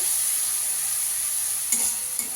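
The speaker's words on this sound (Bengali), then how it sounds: "কাশ্মীরি লঙ্কার গুঁড়ো দেবো। ভালো করে কষিয়ে নেবো মশলাটাকে।" Spice paste with Kashmiri chilli powder sizzles steadily in a wok for korai chicken, a close, continuous frying hiss broken by two brief scraping stirs of a spoon, with no talk.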